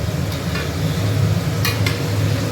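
Puris fry in hot oil with a dense, continuous sizzle and a few sharp crackles and spatters, close by and with no talking.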